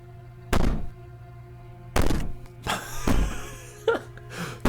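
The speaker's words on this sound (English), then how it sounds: "Maybe the banging and wailing will stop if you just don't pay attention to it." Heavy banging on a wall in the horror game Slay the Princess, several loud, booming thuds spaced irregularly, with muffled wailing and scraping between the blows.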